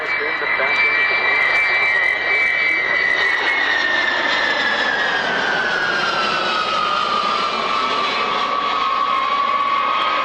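Loud, steady roar of B-52 bomber engines at the Mildenhall airshow, a broad jet rumble with a high whine that slowly falls in pitch as the aircraft passes, continuous throughout, with an announcer's voice underneath.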